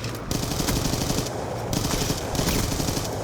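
An MSMC submachine gun fired in Black Ops 2, rattling out rapid full-auto bursts with brief pauses between them, loud and continuous without speech.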